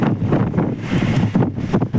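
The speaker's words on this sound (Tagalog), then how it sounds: "lakas ng hangin" Strong wind buffets the microphone with a continuous low roar that swells and dips in gusts.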